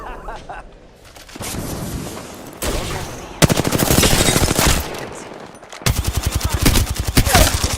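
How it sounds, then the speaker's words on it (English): Rapid automatic gunfire in Apex Legends, bursts of fast, loud, close rattling shots in several separate volleys with short gaps between them, with some talk. "Getting shot at."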